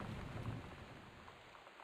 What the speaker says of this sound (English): It doesn't help that there's a rainstorm